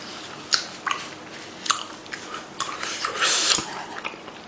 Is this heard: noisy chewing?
yes